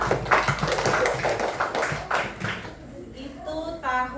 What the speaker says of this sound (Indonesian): tepuk tangan dulu untuk Raka